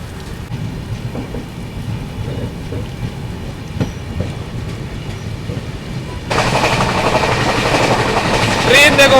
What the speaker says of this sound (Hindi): अभी ट्रेन के पैसेंजर्स उतरे हैं और एकदम बारिश आ गई है